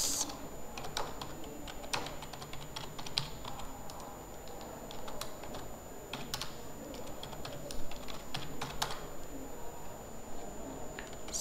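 Steady, fairly quiet typing on a computer keyboard as a program is entered in a lab, with quick irregular key clicks and occasional heavier taps throughout.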